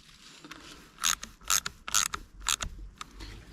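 Two small nuts are tightened onto the studs of a Stihl MS200T chainsaw: several quick, close ratcheting clicks in short bursts, each with a light metallic ring, quiet and alone.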